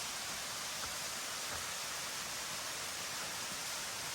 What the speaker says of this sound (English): Going by some pretty waterfalls though.